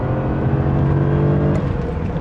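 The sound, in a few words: BMW E31 850i V12 engine revving at full throttle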